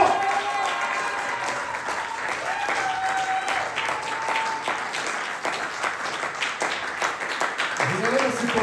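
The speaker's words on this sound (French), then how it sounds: "on acclame le Seigneur pour moi" A church congregation applauds in a dense, sustained wash of clapping, with a preacher's voice and shouts rising over the crowd throughout.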